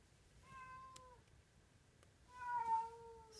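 A pet cat meows twice in the background of a quiet room, each call drawn-out and mid-loud, the second one stronger and longer.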